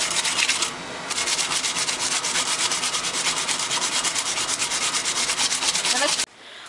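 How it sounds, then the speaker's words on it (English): A cleaver blade is rubbed with 60 grit sandpaper in fast, rhythmic back-and-forth strokes, a harsh close scratching that runs continuously with one brief break before stopping abruptly. "we were sanding this out"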